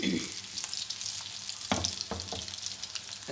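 Shami kebabs fry in oil over medium heat, producing a continuous soft sizzle with a few sharp scrapes and taps of a utensil against the pan, close and fairly quiet, with no talking.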